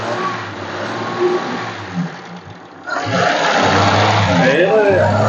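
A 1968 Ford F-75 engine idles smoothly nearby, a low steady rumble that grows fuller and louder partway through, with people talking over it.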